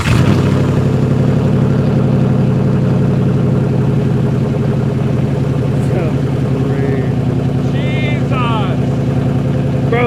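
A racecar engine fitted with a new handmade exhaust runs steadily at close range, a loud continuous low rumble throughout, with people talking over it.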